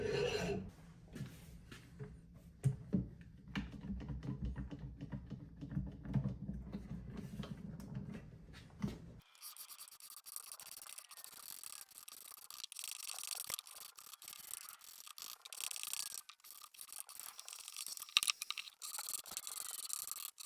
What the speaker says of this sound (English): I'm going to be clamping it down and then using the scraper or this chisel to remove all of that.